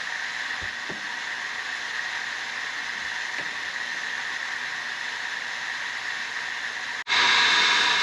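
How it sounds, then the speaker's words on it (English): An off-grid generator charging batteries at a remote Alaska homestead: a steady, even hiss-like drone runs continuously, with a couple of faint knocks, then shifts to a louder, brighter tone near the end. "so I kicked up the generator to get us a little boost"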